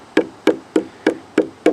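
A deck board for a deer hunting shack is struck against a wooden surface, giving six evenly spaced, sharp knocks about a third of a second apart, close and clear.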